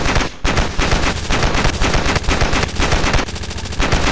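Sustained machine gun fire in the video game Ravenfield, loud and close, rattling in rapid continuous bursts with brief gaps between them.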